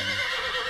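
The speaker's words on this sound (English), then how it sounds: "I reckon y'all know my co-horse, Rusty." A cartoon rodeo horse gives a brief, loud, close whinny with a high, wavering pitch, heard alone.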